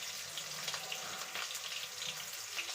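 A couple of sprigs of curry leaves sizzle and crackle in hot oil with onion for a chickpea and greens dish, a steady, close, fairly loud frying hiss with small pops throughout and no talk.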